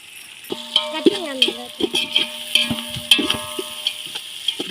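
Onions sautéing with salt in a pan while cooking biryani, with close stirring scrapes, clinks and a faint sizzle, plus a tonal whine and quiet background voices.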